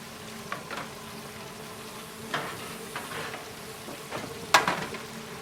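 Battered fish frying in hot oil makes a low, continuous sizzle with scattered soft pops and crackles, and one sharper spatter near the end.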